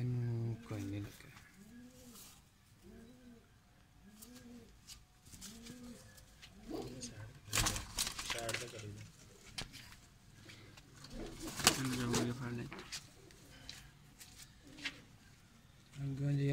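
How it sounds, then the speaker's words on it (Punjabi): Pigeons coo in repeated rhythmic phrases, nearby and moderately loud, while people talk over and between the calls. "ਜੀ ਅੱਜ ਦਾ ਦੂਸਰਾ ਕਬੂਤਰ ਹੈ"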